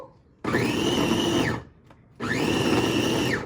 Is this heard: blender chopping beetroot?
yes